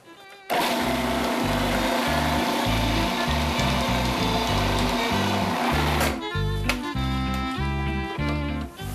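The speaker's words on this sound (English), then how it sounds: "Now we'll add the lid onto our food processor, turn it on, and blend until smooth." A food processor blends a spinach and tofu pie filling, its motor running as a loud, steady whir from start to finish, with the pitch and texture shifting partway through as the mixture loosens.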